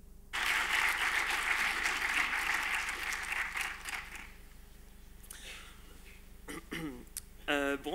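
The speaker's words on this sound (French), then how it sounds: "sous vos applaudissements évidemment." Applause breaks out at a film festival award ceremony, full and sustained at first, then thinning out, and a voice begins speaking near the end.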